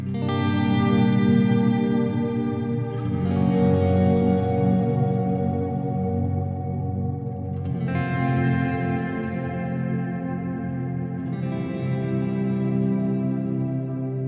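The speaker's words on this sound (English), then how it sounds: "This is quite a wet signal that's coming through and just a slight shimmer being applied." Electric guitar through a Strymon BigSky MX pedal set to a very wet shimmer reverb, sustained chords blooming into a wash of echoing trails, with new strums around every few seconds swelling over a continuous ambient tail.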